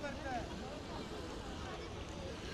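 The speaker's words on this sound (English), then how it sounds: "so it's only the gust of wind" Wind buffets a microphone outdoors on a city street on New Year's Eve in Birmingham, a steady, loud rumbling roar that fills the whole short stretch.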